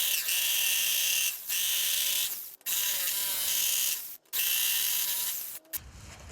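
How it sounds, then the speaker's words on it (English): A jigsaw cuts fish shapes in reclaimed pallet wood, a close, high buzzing whine in three long bursts separated by brief stops. "So I'm afraid it's back to the jigsaw."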